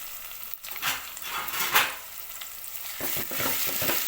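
Onions, green chilies and ginger-garlic paste stirred and frying in a pan for brinjal-tomato curry, giving a steady close sizzle with scraping spoon strokes, a brief dip, then busier stirring toward the end.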